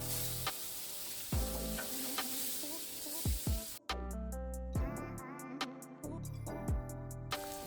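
Bacon sizzles and crackles in a hot pan, a steady frying hiss with occasional scrapes and pops, close up and without speech.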